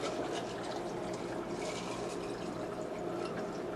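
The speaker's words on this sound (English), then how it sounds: "I like to fill it halfway with water, with ice, and then fill the remainder with the water." Water poured over ice into a big, tall glass, a steady continuous pouring and filling sound with a faint trickle, close and moderately loud throughout.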